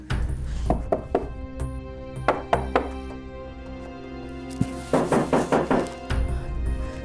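Someone knocks on a door in a TV drama scene, sharp raps in quick clusters of three or four, repeated several times over a soft background music bed.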